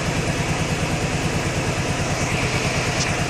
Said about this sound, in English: you can hear the fan just kicked on the coolant system on the bike